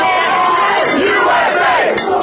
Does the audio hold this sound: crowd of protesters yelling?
yes